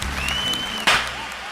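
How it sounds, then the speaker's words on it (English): One sharp hand clap to sync audio snaps out loudly partway through, set against a steady background hum and a faint thin whistling tone. "You don't have to clap again."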